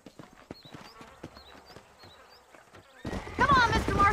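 Horse hooves clip-clop steadily on dirt in the video game Red Dead Redemption, with a few birdcalls overhead, before louder galloping and a rush of movement take over near the end.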